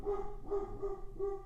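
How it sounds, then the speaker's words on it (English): Dogs bark inside an apartment, four muffled barks in an even rhythm, somewhat distant, with no talking. "Sorry, my dogs are barking."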